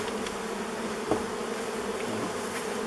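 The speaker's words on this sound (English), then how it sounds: "We'll probably got bees crawling up my legs again." Bees hum and buzz at the entrance of an old beehive left unopened for over thirty years, a steady close droning with brief individual fly-bys.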